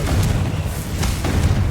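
A Confringo explosion spell cast in the game Hogwarts Legacy, a short heavy booming blast with a low rumbling body and a couple of crackling bursts, loud and close.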